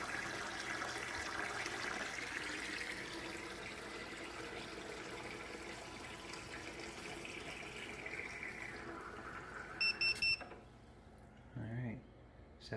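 Tap water runs steadily into a bucket for brewing a Munich Helles beer, a continuous rushing flow whose pitch rises as the bucket fills before the tap shuts off, followed by a few brief clunks.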